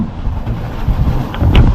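Strong southwest monsoon wind buffeting a small tuna fishing boat at sea, gusty roaring wind noise on the microphone with low surging swells and waves rising and falling in loudness.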